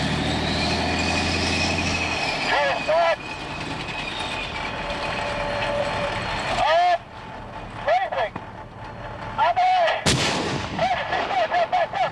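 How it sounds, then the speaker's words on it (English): Tank main gun firing practice rounds on a live fire range, a single sharp, heavy blast cutting through a steady loud drone of the armoured vehicle's engine, with clanking and rattling from the tank before the shot. "the tankers of the 210th Armour head to the live fire ranges to practice their gunnery skills"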